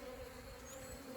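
Honey bees hum around a nuc hive, a faint steady buzz with no voices.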